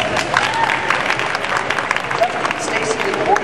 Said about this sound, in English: give a huge round of applause to Kevin